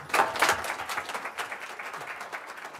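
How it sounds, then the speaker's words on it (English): Audience applause at a San Francisco big-data tech meetup on TensorFlowOnSpark, a moderate burst of clapping that peaks early and then settles into a steady, thinning patter. "give another round of applause for the Yahoo team."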